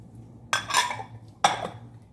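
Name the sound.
stirring ingredients in a pot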